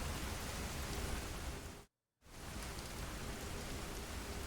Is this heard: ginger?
no